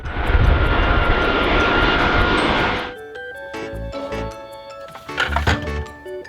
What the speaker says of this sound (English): White airplane.